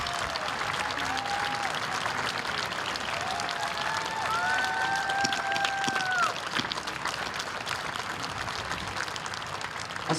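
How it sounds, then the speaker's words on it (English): Crowd at a Relay for Life cancer survivor event keeps up sustained applause, a broad continuous clapping texture with faint cheers and whistle-like tones rising over it, and murmuring voices mixed in. "Let's keep that applause going"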